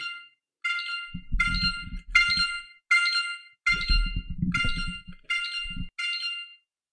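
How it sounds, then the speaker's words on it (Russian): A Xiaomi phone's find-device alert rings out as a repeating series of bright, chiming electronic tones in short bursts with brief gaps, loud and close, accompanied by low buzzing vibration during several bursts. "Вот такой противный звук получается, то есть телефон говорит, где он есть в данный момент"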